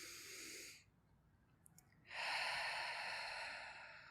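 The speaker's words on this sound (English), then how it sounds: "Taking this time to breathe full, deep belly breaths" Slow, deep belly breaths during a guided meditation: a long airy exhale, a quiet pause, then a fuller, steady breath, close and soft with no talking.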